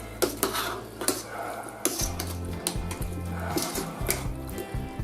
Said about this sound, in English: put our vegetables in there, and we're going to put our stock over this. And we're going to mix it all well.